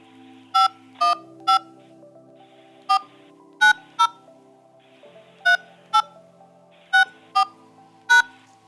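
Telephone keypad DTMF tones dialing a destination number into a calling service, about eleven short, clear beeps in uneven groups over a quiet line, with no talking.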